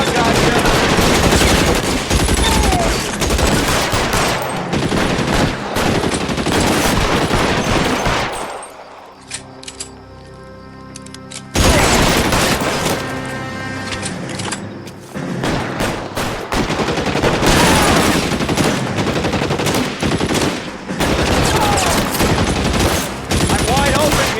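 Loud, dense gunfire in the video game L.A. Noire: rapid automatic bursts overlap into a near-continuous barrage, with a short lull in the middle before the shooting resumes at full intensity.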